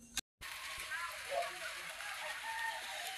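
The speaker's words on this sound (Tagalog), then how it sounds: "Umuulan na naman yung langit natin." Steady rain falls in a continuous, even hiss on surrounding surfaces, faint and uninterrupted after a brief cut near the start.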